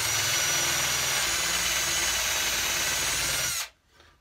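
A power drill spinning a part for a three-string cigar box guitar whirs steadily at high speed, loud and close, then cuts off abruptly near the end, leaving quiet.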